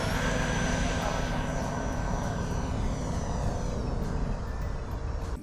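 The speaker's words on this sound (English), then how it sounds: "This Habu XS is, I think, the easiest landing EDF I've flown" An E-flite Habu XS 80mm electric ducted-fan jet on its landing approach, a loud continuous whine with a sweeping pitch shift that stays close and fades slightly at the end.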